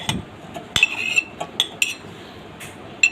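Mango pieces dropped into a blender jar, giving a few sharp, close clinks and knocks spaced irregularly over a few seconds against a quiet background.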